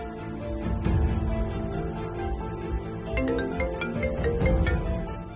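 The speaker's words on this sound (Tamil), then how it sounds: "கரண் தான் ஃபோன் பண்றான்" Incoming-call ringtone from a mobile phone in a Tamil TV serial scene, a melodic repeating tone pattern playing loudly with background music and no speech.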